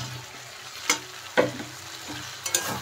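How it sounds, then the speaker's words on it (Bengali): Fried cauliflower is stirred into a cooked-down spice masala in a pan for a vegetarian cauliflower roast: a few distinct scraping stir strokes over a low, steady sizzle, with no talking. "এখন মশলার সাথে ফুলকপিগুলো একটু মিশিয়ে দিচ্ছি আমি।"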